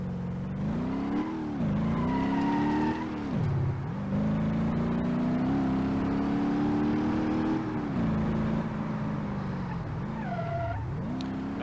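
A supercharged Jeepster with a stage one supercharger on a smaller motor, driven in BeamNG.drive, revs hard, its engine note swooping up and down repeatedly and running close and loud with a few sharp dips.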